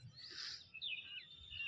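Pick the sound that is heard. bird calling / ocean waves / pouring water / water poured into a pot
bird calling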